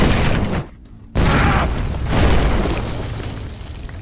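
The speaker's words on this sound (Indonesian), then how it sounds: "saat keduanya berlari, mereka menginjak ranjau dan meledak" A landmine detonating in a war film: a heavy, loud boom with a brief drop-out, then a sustained roaring blast and rumbling debris that slowly fades, with no voices.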